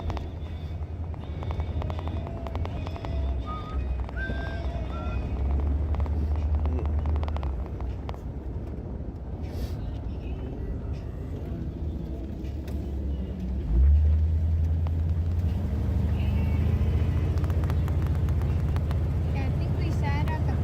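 A 1965 Ford F100 pickup truck drives along with a steady low engine rumble that swells louder partway through, while people talk inside the cab.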